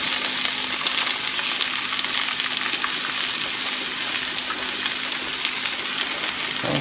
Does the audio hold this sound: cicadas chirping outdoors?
no